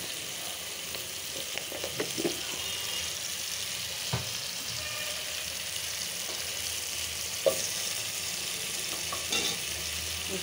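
A curry fries in a pan with a steady, soft sizzle and occasional light stirring clinks, quiet and continuous, with no talking.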